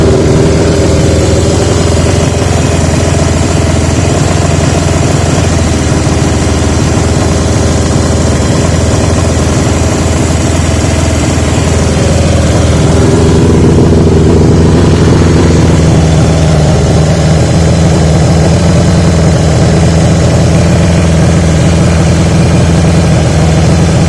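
A 1980 Yamaha XJ650 motorcycle idles steadily up close through new old-stock exhaust pipes, a continuous loud low burble with a slight shift in tone partway through and no talking.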